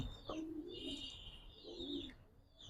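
Giribaz pigeons in a loft give a couple of soft, low coos, faint and close, while a thin, high bird call drifts over them.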